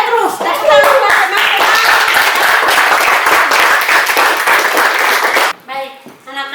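Schoolchildren in a classroom clap together for one group, a loud, sustained burst of applause that stops abruptly near the end, followed by a spoken voice.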